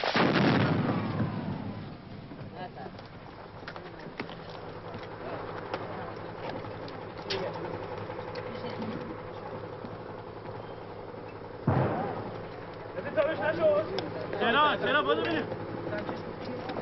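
Artillery fire and gunfire from trench warfare in a war setting, heard as a loud opening blast, a continuous rumbling battle bed, and a second sharp burst near the end with scattered pops.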